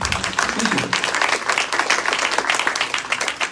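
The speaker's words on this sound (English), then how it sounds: "Another round of applause, please." Sustained audience applause fills a hall after a Carnatic music recital, steady and dense clapping at close range throughout, with no speech over it.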